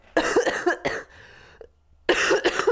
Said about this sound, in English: you guys are going to be hearing me cough